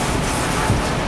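Water sprays hard inside a greasy container being rinsed out, a loud, close, steady hiss lasting about a second with no voices.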